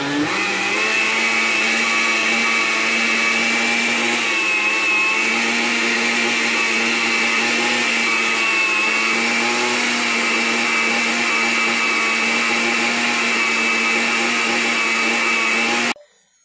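A blender making a smoothie runs continuously at high speed on its smoothie setting with a steady whirring motor hum and churning, stopping abruptly near the end.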